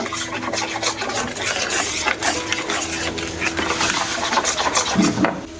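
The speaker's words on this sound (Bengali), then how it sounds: "বেকিং পাউডার দিয়ে দিলাম, দিয়ে ভালো করে মিশিয়ে নেব" Baking powder being stirred into beaten biscuit batter for homemade flour biscuits, a steady close scraping and whirring mix that runs continuously throughout.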